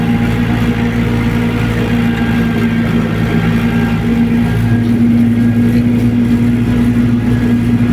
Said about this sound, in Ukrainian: Якраз трактор трошки нагріється